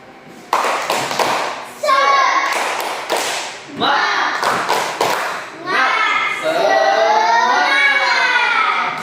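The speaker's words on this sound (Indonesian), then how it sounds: "Kita tepuk semangat." A class of children performs a rhythmic clapping chant, sharp bursts of group claps alternating with loud chanted shouting, close and energetic, the voices and claps trading back and forth in a patterned call.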